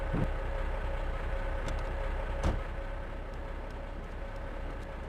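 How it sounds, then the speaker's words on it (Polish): An aircraft engine left running in GTA 3 hums in a steady, fairly quiet drone, with a brief sharp click partway through and no speech. "jakiś pieprzony lotnik zapomniał wyłączyć silnika"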